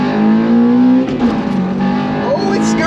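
Old Honda car with a two-step launch setup accelerating hard, its engine note climbing and its tires chirping, loud and close, with a person's voice briefly over it.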